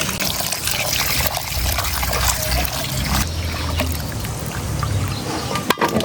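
Water splashes and trickles continuously close by, a busy wet swishing as small chopped mango pieces are rinsed in a basin, ending with a sharp knock.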